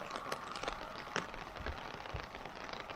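A sudden downpour hits outdoors during an ultramarathon, a dense, steady patter of rain close by, scattered drops tapping on surfaces, with no talk.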